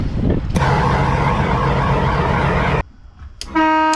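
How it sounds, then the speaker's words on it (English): A loud compressor-driven air horn aboard a wooden boat blasts for a few seconds and cuts off, followed by a brief hiss and then a second sharp, tonal honk starting. "I simply set this up so I could honk the horn as a test."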